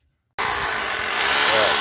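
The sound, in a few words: drilling holes for anchors to mount a well pump bracket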